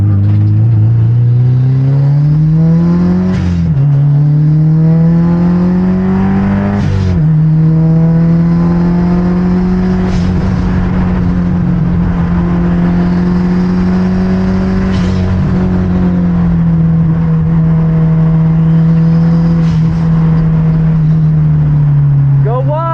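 A 330 HP Subaru STI accelerates hard around Utah Motorsports Campus. The engine drones loudly up through the revs, with brief drops at gear shifts, and voices talk over it inside the car.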